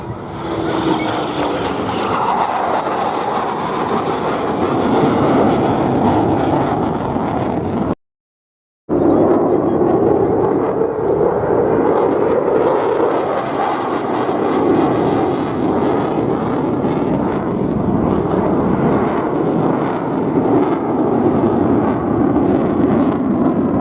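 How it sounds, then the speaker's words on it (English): A Eurofighter Typhoon delta-wing jet passes at the Bournemouth Airshow with a loud, sustained roar that holds steady for over twenty seconds, broken once by a brief dropout. "coming in, fast and slow, Matthew Brighting in the phenomenal Typhoon."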